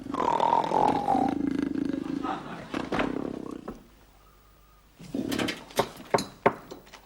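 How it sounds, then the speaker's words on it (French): A pet parrot in a veterinary setting makes a loud roaring call, a few drawn-out growling roars followed by a pause, then sharp knocks and bumps nearby. "ça fait 1 heure qu'il y a mon perroquet qui rugit"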